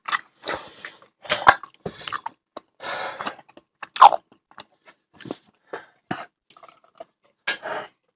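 Chewing and biting a fruit chew up close, with repeated wet, crunchy mastication bursts in an irregular rhythm, alone without talk.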